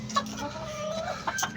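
Chickens clucking nearby in short, uneven bursts, with some low background noise.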